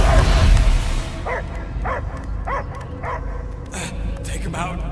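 Dog barking in the Guardians of the Galaxy video game, a run of about six or seven rhythmic barks and yips at mid distance over a rumbling game backdrop.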